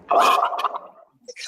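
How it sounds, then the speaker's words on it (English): A person lets out a loud, close water burp, a wet gargling croak lasting under a second, followed by a brief faint voice. "and then I replied with a water burp."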